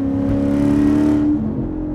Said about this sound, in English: Very smooth power from the V8.